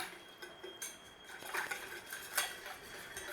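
A spoon stirs gelatin into a pie-filling mixture, scraping and lightly clinking against the bowl in a few quick, close strokes, quiet and without talk.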